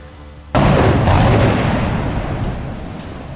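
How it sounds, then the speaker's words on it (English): A sudden loud blast at a power plant in Thar Parkar, Sindh, Pakistan, bursting in after half a second of quieter noise and leaving a long roaring rumble that slowly fades, with a few faint pops on top. "An explosion occurred at Ingra Power Thar Private Limited Power Plant in Thar Parker district of Sindh, Pakistan"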